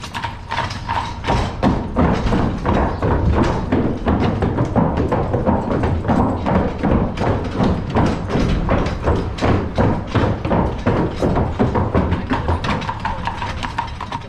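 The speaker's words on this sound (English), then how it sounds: "my favorite part is going through the covered bridge because of the clip-clop therapy" Steady, rapid hollow thuds of horse hooves clip-clopping on a wooden covered bridge deck in Lancaster Amish Country, continuous and close, with a rumbling undertone throughout.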